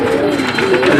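Two pigeons cooing together in a loft, a steady low murmuring coo running through the whole second, close and fairly loud with no talk over it.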